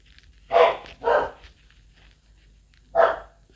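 A dog barks three times nearby, two quick barks then a pause before a third, with no voices.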